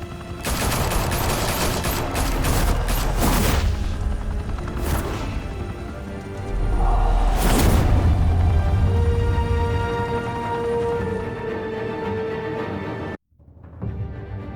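Sustained automatic gunfire erupts in a Batman film shootout at a high-rise mafia club in Gotham, with rapid bursts, sharp cracks and a couple of heavier booms before a sudden cutoff near the end.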